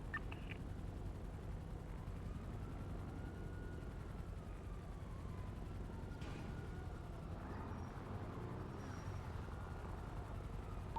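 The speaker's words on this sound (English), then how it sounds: "I hear a helicopter above me." A video-game helicopter's rotor in GTA 5 NoPixel 4.0 role-play thrums steadily and faintly overhead, a continuous low beating drone with no talking.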